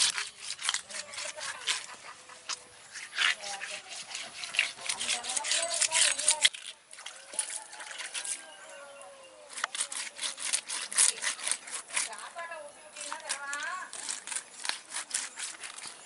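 A whole catla fish is rubbed and scrubbed clean by hand in a village kitchen, making close, repeated rasping strokes in a steady rhythm with short pauses.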